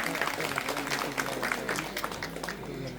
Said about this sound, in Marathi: एकदा जोरदार टाळ्या होऊन जाऊ द्या या चिमुकल्यासाठी